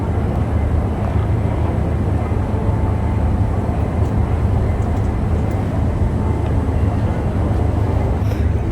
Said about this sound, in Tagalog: malapit na mag-take off yung aeroplano namin. Ayan, papunta na kami ng runway